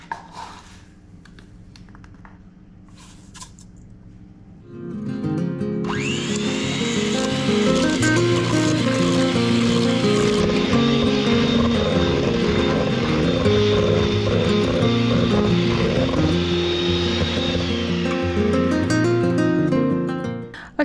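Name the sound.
small food processor chopper pureeing melons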